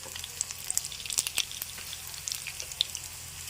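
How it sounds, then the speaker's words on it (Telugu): Fenugreek seeds frying in oil for a brinjal pickle give a faint, crackling sizzle with scattered small pops, quiet and close. "మెంతులు వేస్తున్నా"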